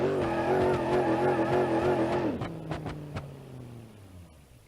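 Simulated Granny Cart engine with turbo boost in BeamNG.drive, a loud warbling drone that holds steady for about two seconds, then cuts off into a few sharp bangs and a fading, falling rumble.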